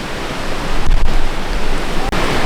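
At a shallow jungle river crossing in El Danubio, Colombia, water rushes loudly and steadily like a close waterfall, with brief dips and surges in the flow.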